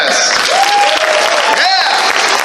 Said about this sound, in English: give yourselves a round of applause if this is your first year at Midwest Fur Fest